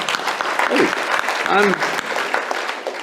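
An audience claps throughout, a dense continuous patter of applause under speech.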